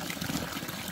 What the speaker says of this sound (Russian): Это вот святая водичка течет.